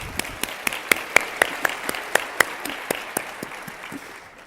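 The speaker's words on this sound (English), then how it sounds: "let's clap for John" Audience applause at a talk on design, a steady patter of clapping with sharp individual claps standing out, fading toward the end.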